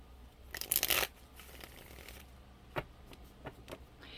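Oracle cards being shuffled close by in a quiet room, a dense riffling burst followed by a few softer card slides and taps, with no talking.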